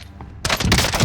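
Pistol gunfire in Call of Duty: Modern Warfare (2019) multiplayer, a dense burst of loud, close shots and impacts that starts abruptly after a brief quiet lead-in and continues to the end.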